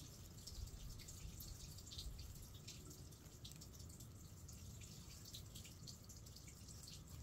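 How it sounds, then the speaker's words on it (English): Water trickles down into an old well in a wooded valley estate, a very faint, steady dripping and gurgling trickle heard from above with no voices. "there is running water going into the well right now if you listen to it very quietly"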